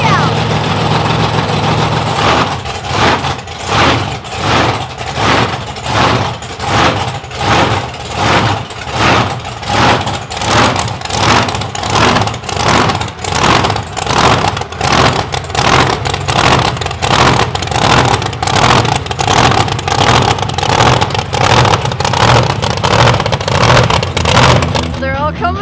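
A big monster truck engine rumbles loud and close as it is driven out of a semi-truck trailer, throbbing in a steady pulsing rhythm of repeated revs for over twenty seconds, with voices mixed in.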